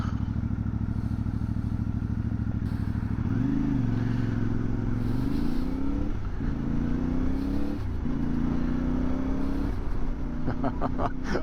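A CFMOTO 450MT motorcycle engine drones steadily up close, its pitch rising with acceleration and dropping at each gear change, several upshifts in a row with some rattling clatter over constant road noise.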